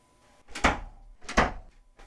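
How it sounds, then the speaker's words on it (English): Double doors swing shut in a dim hotel kitchen, horror-story style, with two heavy thuds about three-quarters of a second apart and a faint third knock at the end. "As we closed the double doors behind us"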